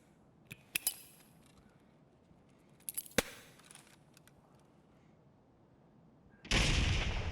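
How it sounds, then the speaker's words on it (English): A grenade in the shooter game Escape From Tarkov: a few sharp metallic clicks and clinks come first, then a quiet stretch, then a loud, sustained explosive roar that fills the end of the clip. "You see there, I threw the nade"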